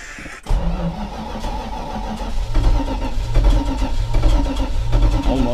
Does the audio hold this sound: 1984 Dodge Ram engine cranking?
yes